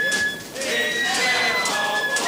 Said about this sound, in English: I can hear wood pigeons